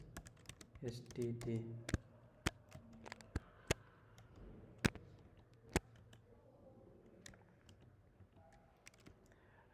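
C++ code being typed on a computer keyboard, sharp separate key clicks in an irregular rhythm, close and fairly quiet, with a voice talking over them.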